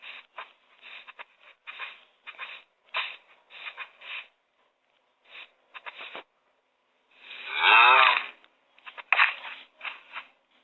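A cow in the Minecraft video game with one long, drawn-out moo near the middle, surrounded by short scraping and shuffling bursts, close and alone.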